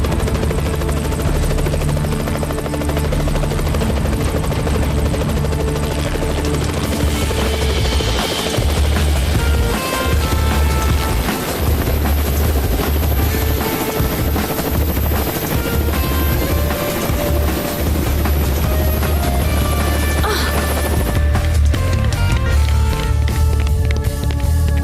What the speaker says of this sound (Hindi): ये आवाज सुन रहे हो? हेलीकॉप्टर की आवाज।